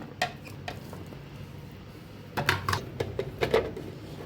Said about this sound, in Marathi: बारीक करून घेऊया आपण चॉपरनं।